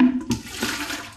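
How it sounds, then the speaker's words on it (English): Water poured from a cup into a mixing bowl for seitan batter, a short splashing gush that tapers off quickly, close and alone. "now I'm going to pour in,"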